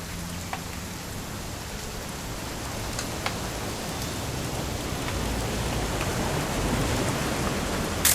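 Steady rain in the video game What Remains of Edith Finch hisses continuously, with occasional sharper drops and a low rumble underneath, growing slightly louder toward the end.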